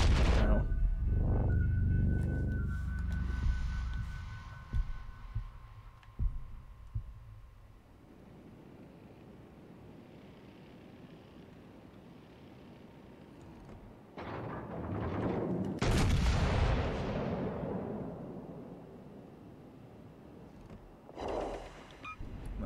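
Battleship guns firing armor-piercing shells from an Iron Duke in World of Warships Legends, deep booming salvos with rumbling tails, a heavy blast near the start and another around the middle, over low engine hum.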